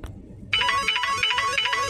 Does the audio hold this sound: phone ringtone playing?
yes